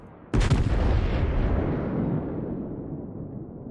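An HE shell volley from the Jean Bart battleship in World of Warships: one sudden, heavy, close boom that rolls into a long rumbling decay lasting several seconds.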